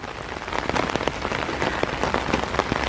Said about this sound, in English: What a place to be caught in a heck of a lot of rain.